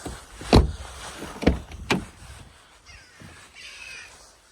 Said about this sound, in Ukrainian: 4 склопідйомника.